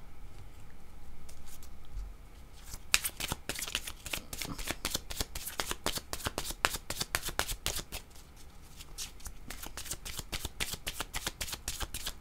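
Playing cards being shuffled close up in quick repeated riffles and bridges, a dense crackling flutter that starts after a couple of seconds of low rumble and continues steadily with brief pauses between shuffles.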